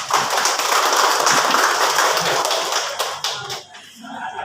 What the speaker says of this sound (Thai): ขอเสียงปรบมือต้อนรับท่านดรพิพง์ขันสาครับ